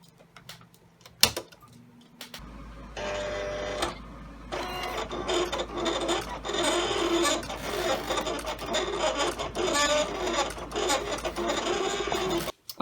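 A Silhouette Cameo 4 cutting machine works steadily with a Fine Tip Foil Quill, giving a continuous mechanical whirring and scraping with repeated short motor movements, close and fairly loud, with no talk.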